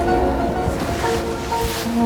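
Surf rolls steadily onto a sandy beach beside an oceanfront junior suite at a Phuket hotel, a continuous wash of waves with no voices over it.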